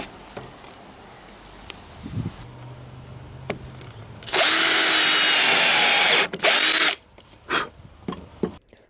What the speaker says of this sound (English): I prefer to pre-drill the screw holes to prevent splitting